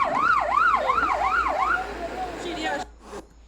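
An ambulance siren wails nearby in a rapid rising-and-falling pattern, then fades and cuts off abruptly.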